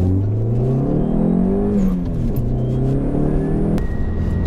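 A Dodge SRT-4 pulls away with its engine rising in pitch through the revs, a close, steady drone that climbs, dips and climbs again as it accelerates.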